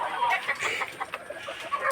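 Fighting-breed chickens cluck and chatter busily on a farm, a dense stream of short clucks and squawks from several birds nearby, moderately loud and continuous.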